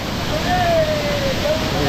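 The Nhavankond waterfall gives a continuous, dense rushing roar that stays constant throughout. A faint voice-like tone drifts over the water noise.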